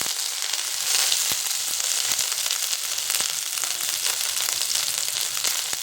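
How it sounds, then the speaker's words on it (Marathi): Finely chopped garlic and ginger crackle and sizzle steadily in hot oil, a dense, bright frying hiss with scattered sharp pops, close and continuous with no voices. "तेल छान तापलेलं आहे, त्यामध्ये आपल्याला लसूण घालायचं बारीक कापलेलं."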